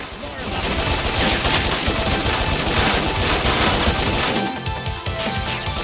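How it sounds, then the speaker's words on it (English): Rapid bursts of video game gunfire crackle in dense, continuous volleys, loud and close, layered with impacts and crashes throughout the short stretch. "Apparently as you are shooting you can't use the A button."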